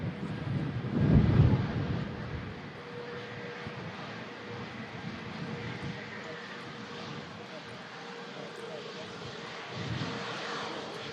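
Boeing 737 airliner landing after a flight from Murcia, its engine roar swelling near the start and then settling into a steady broad rumble with wind buffeting, while someone talks over it throughout.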